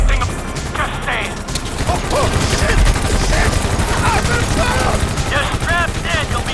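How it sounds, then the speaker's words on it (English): Sharp, rapid gunshots crack from a helicopter mission in GTA V, loud and repeated in bursts, with characters talking over the shooting. "Tell the kid to stop shooting at us."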